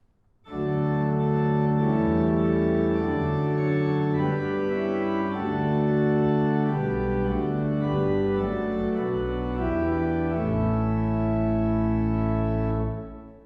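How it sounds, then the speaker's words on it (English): Viscount organ playing a slow, full hymn accompaniment on steady diapason tone, sustained chords shifting smoothly for several bars before cutting off. "a gentler organ accompaniment, nevertheless built on the diapasons to support the congregation"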